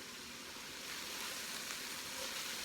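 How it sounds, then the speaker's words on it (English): Fatty meat sizzling in a hot pan for a Bolognese sauce, a faint, steady hiss of frying that swells slightly as it is stirred, with no voices. "let's just give that a stir"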